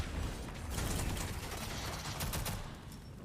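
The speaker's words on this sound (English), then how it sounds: "Nice rocket launcher there." Rapid gunfire and explosive bursts in a competitive team shooter match, a dense continuous barrage with crackling impacts throughout.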